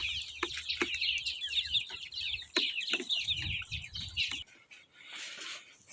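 Half-grown young chicks raised from an incubator chirp and cluck in a dense, busy chorus of high peeps close by. The chirping cuts off abruptly near the end, leaving only a soft hiss.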